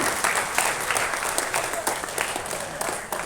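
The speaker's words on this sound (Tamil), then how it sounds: "ஒரு பெரிய கைத்தட்டலோட அவர் மேடி கழிச்சிடலாம்" Audience at a Tamil film audio launch clapping to welcome the director onto the stage, a dense, even burst of applause held close and moderately loud with no pause.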